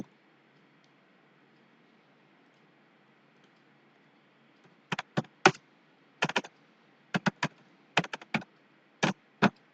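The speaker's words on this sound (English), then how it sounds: "if you want to verify the Git, now type the command git hyphen hyphen version" Keys clatter on a computer keyboard as a software version command is typed, a few quick bursts of close, crisp clicks separated by short pauses after several seconds of near silence.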